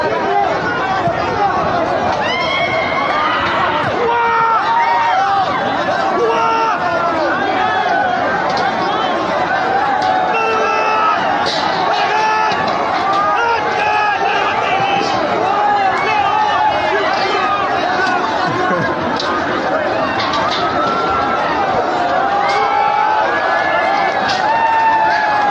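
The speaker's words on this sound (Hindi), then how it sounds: "सर, इतना भीड़ तो हमारे मंदिर के बाहर नहीं होती" A large crowd at a Pakistani wedding fills the air with loud, continuous chatter and babble, many voices overlapping without a break.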